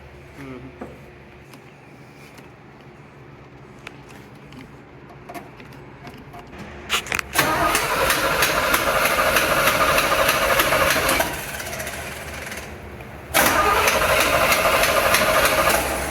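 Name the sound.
old pickup truck engine cranking and starting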